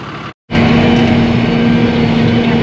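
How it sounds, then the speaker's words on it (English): A loud farm motor runs steadily with a low, constant hum, briefly cutting out for a moment near the start before droning on. "I think they said this motor I might have to jump the starter over it."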